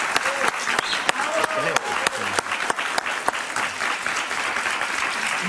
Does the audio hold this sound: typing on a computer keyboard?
no